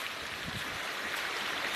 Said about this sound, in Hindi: पानी कलकल करती हुई पत्थरों पर बहती जा रही है